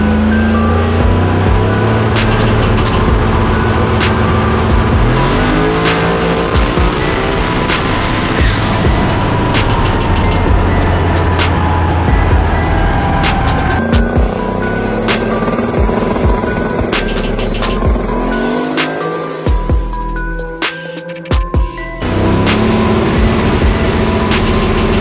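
A drag racing car making a test pass at the Lights Out 13 event: a loud, close engine roars and climbs in pitch through repeated shifts, then drops off briefly before surging again.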